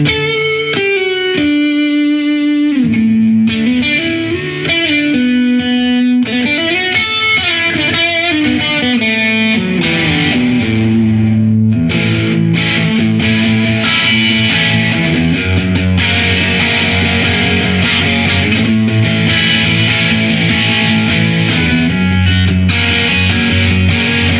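A Squier Classic Vibe Starcaster electric guitar played through a distortion effect rings out loud and alone, opening with single sustained notes, then moving into thick, gritty chords that continue steadily.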